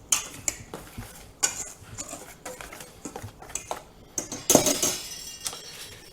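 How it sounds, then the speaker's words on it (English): A whisk stirring sugar, salt and baking powder in a bowl, a run of irregular clinking and tapping strokes against the bowl, some sharper than others, close and moderately loud with no talking. "with a whisk, I'm going to stir it up"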